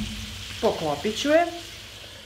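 Chicken liver fries in a pan with a steady, soft sizzle running beneath a woman's close speech throughout.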